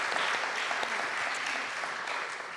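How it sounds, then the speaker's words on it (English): Warm applause from a church congregation during a Sunday morning service, steady clapping filling the room for a couple of seconds and fading slightly at the end. "Let's give them a round of applause."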